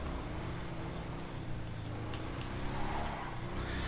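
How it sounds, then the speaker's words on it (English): A deep, throaty muscle car engine in GTA Online drones steadily with a rumbling low end, revving slightly toward the end, with no talking over it. "Actually sounds not bad. Muscle car, nice. Throaty."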